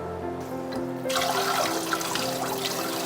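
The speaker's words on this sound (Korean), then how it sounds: "편육은 찬물에 한번 헹궈서" Cold tap water gushes steadily over pressed boiled beef in a kitchen, the running stream starting softly and growing to a full, close splashing rush with no talk.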